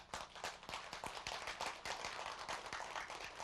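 Faint, thin applause from a modest audience at a Korean lecture on Chinese characters, a steady patter of scattered hand claps lasting a few seconds with no talking over it.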